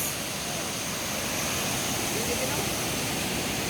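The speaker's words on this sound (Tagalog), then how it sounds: "See that? There's a lot of falls." Steady, loud roar of water pouring down at Sinulom Falls, a forest waterfall with fresh spring water, filling the whole clip as an unbroken broadband rush with no pauses.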